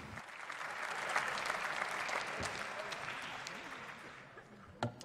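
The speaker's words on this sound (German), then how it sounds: "Der kriegt jetzt auch viel Applaus, aber natürlich aus seinen Reihen." Sustained applause from members' benches in the Bundestag plenary hall in Berlin, a steady dense wash of clapping heard from a distance that gradually thins toward the end, with a sharp knock near the close.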